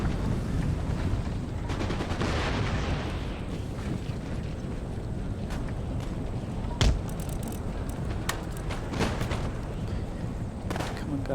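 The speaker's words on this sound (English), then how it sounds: "come on guys, cannons fire" Cannon fire in Empire: Total War, a battle on the Chechen plains, with scattered dull booms and sharp cracks over a constant rumbling battlefield wash.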